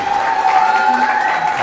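A studio crowd applauds and cheers steadily and loudly, a dense continuous wash of clapping that lasts throughout.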